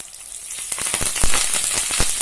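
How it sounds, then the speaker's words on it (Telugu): Garlic sizzles as it drops into hot oil with dried red chillies for a tempering for brinjal chutney, giving a bright, continuous hiss broken by sharp close pops and crackles. "కొద్దిగా ఎల్లిపాయలు పోపులో వేసుకోండి."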